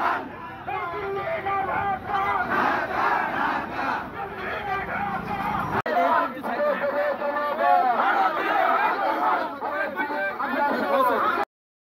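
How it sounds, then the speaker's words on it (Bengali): A large protest crowd at the Chapai border chants slogans in loud, continuous unison, voices rising and falling in rhythmic waves throughout, with a brief break partway before the chanting resumes. "সেখানে তারা বিজিবির সাহসের তারিফ করে স্লোগান দেয়"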